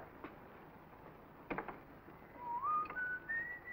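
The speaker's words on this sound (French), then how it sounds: "T'as l'air bien gai ce matin, tu siffles comme un merle." A person whistles a short rising tune, faint and close, after a few soft knocks in an otherwise quiet room.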